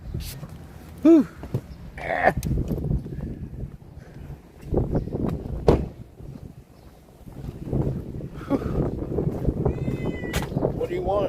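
A stray cat meowing a few times in short, close cries, mixed with wind buffeting the microphone and someone talking.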